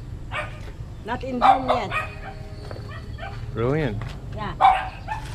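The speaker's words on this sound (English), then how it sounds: "I have plenty of dogs here" Dogs bark and yip at a garden gazebo in the Philippines, a few short bursts spaced through the clip, fairly close and mixed with people talking.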